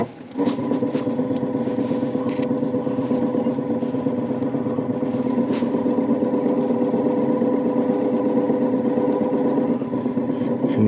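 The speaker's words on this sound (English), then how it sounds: "I'm going to be turning this in reverse at 250 RPM and putting denatured alcohol on a cloth to clean that dust off." A wood lathe spins a green ash bowl in reverse at 250 RPM, holding a steady, loud motor drone with faint clattering throughout.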